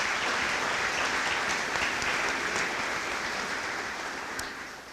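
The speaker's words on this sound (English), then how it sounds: "Let's give all of them a round of applause" Dense, steady audience applause at a public safety awards ceremony, loud and continuous for the full stretch and tapering slightly at the end, with no talk over it.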